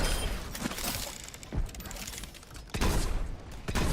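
Shotgun blasts in Overwatch gameplay: several heavy, loud booming shots at irregular intervals over a busy background of game noise.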